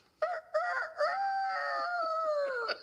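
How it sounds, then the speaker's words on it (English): A rooster crows in one loud, close, drawn-out call that starts with a couple of short clipped notes and then holds a long wavering tone before tailing off. "Rooster."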